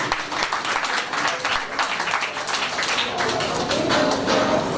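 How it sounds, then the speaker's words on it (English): An audience at a primary school induction ceremony applauds continuously at close range, a dense wash of clapping that holds steady for several seconds. "give them another round of applause."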